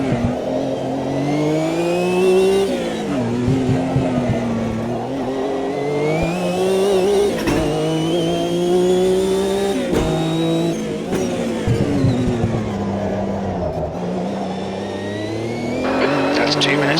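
Race car engine in the Automobilista 2 sim at Long Beach, loud and continuous with rising and falling revs through gear changes and a stretch of hard braking that locks the left front wheel, a voice talking over it.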